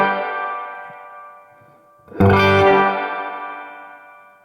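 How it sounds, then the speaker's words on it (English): Guitar played through a Universal Audio Golden Reverberator spring reverb pedal: a sustained chord decays, then a sharp strummed chord blooms with a splashy, ringing spring tail that fades slowly. "That's good old spring reverb, folks."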